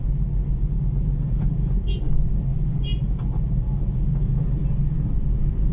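A car drives along a congested road while traffic rumbles low and steady close by, with a person talking over the engine and road noise.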